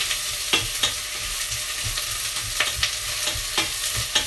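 Ingredients for Persian ash reshteh soup sizzle and fry in a pan while being stirred, with a constant hiss broken by periodic scraping strokes, close and without speech.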